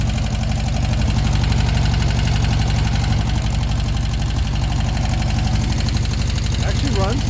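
A Volkswagen Beetle engine idles steadily and loudly for the full stretch with an even low rumble, and a brief voice comes in near the end.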